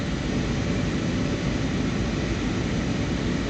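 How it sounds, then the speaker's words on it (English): From inside the cabin, a Jetstar passenger plane on approach to Ho Chi Minh Airport gives a constant, dense engine and air roar that stays loud and even throughout, with no speech. "We're coming into land at Ho Chi Mihn Airport aboard a Jetstar plane from Hue"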